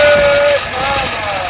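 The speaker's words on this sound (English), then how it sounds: "Hear that belt noise going" A Ford 7.3L Powerstroke diesel engine runs with a loud, close belt noise, a steady whine and squeal over the engine's hiss, and a brief high squeak at the start.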